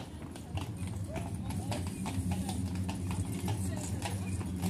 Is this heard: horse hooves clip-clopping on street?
yes